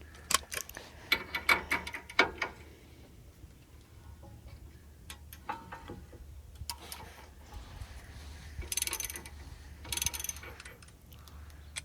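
A hand tool turns a castle nut onto the lower ball joint of a 2007 Toyota, giving a series of quick ratcheting ticks near the start, then quieter clicks and scrapes of metal work at close range.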